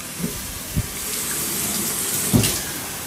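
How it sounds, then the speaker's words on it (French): Fresh market tomatoes rinsed under a running kitchen tap, a steady, fairly loud stream of water with a few soft thuds as the fruit shifts under the flow. "Donc les tomates, je vais les rincer d'abord."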